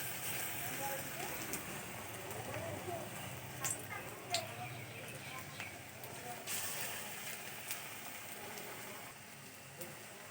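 Onion fritters (peyaji) sizzling in a small amount of hot white oil, a steady soft crackle and spatter with occasional louder pops, with a voice speaking over it.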